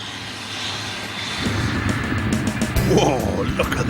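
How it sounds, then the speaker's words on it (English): A large tracked farm tractor pulling a very heavy Simba Solo cultivator, its engine a steady loud rumble that swells after the first second and continues throughout. Voices are heard over the engine noise. "That's the biggest tractor on the farm."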